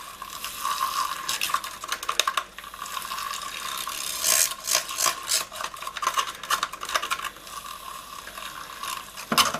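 A bourbon and cola soap mixture being whisked, giving a steady scraping, whirring churn with short rattling bursts that swell and fade over about ten seconds, with no talking.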